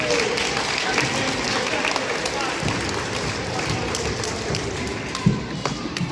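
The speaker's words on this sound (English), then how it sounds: "Give him a round of applause." An audience at a live children's animal show claps for King, a bearded dragon, in a continuous moderate burst, with scattered crowd murmur and one sharp thump near the end.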